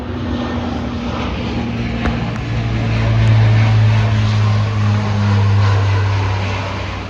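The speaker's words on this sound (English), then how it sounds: "That's a prop plane." A small propeller plane passes overhead outdoors, its loud, droning engine hum building and holding steady as it flies by.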